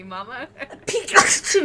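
A single loud, sharp sneeze bursts out partway through, with people chattering and talking casually around it.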